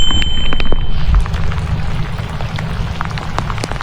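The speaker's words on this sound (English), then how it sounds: "It's raining harder." Heavy rain pours down in a steady, dense hiss across the whole stretch with no talk, a brief faint tone at the start and a few sharper drop patters, during an outdoor fishing outing in a thunderstorm.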